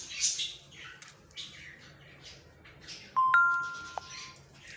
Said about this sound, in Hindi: देखें अभी घंटी बजेगी।